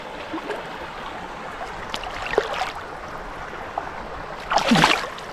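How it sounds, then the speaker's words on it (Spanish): Tajo river in Guadalajara province, Spain, flowing steadily as a faint, even wash of water outdoors, with a few soft splashes and a brief louder rush near the end. "Este es el río por el que volveremos a navegar mañana."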